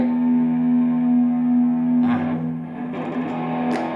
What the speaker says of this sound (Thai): อันตัวที่2เป็นโอเวอร์ได